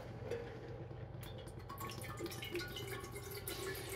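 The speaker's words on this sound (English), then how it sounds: "So, I'm gonna pour in one of these bottles worth of water." Water from a bottle pours into a pot on a gas stove in a kitchen, a steady close splashing and trickling stream running continuously throughout.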